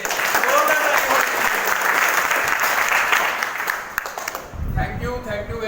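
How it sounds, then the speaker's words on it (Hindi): A business meeting audience breaks into loud, sustained applause, a dense wash of clapping that fades toward the end as a voice and other sounds come through. "तो एक बार जोरदार तालियां होनी चाहिए"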